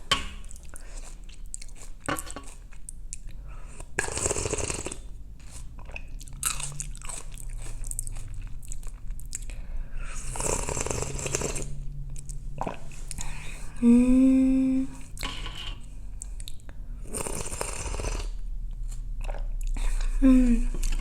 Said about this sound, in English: I'm gonna drink some of the broth.